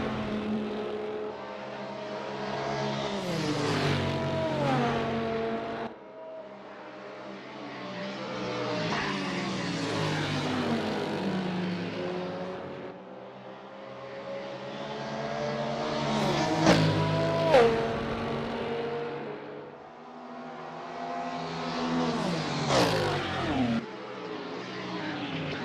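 LMP 900 prototype race cars at Le Mans in a racing game, several loud engine passes sweeping in and fading out in regular waves, each with rising and falling whine and gear-shift revs.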